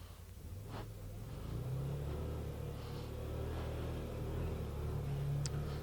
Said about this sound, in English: We better get into some four-wheel drive here.